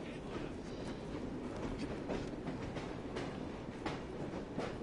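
Train rolling on rails in Assassin's Creed Syndicate, a continuous rumbling roar with faint rhythmic clatter from the wheels, steady and fairly close throughout.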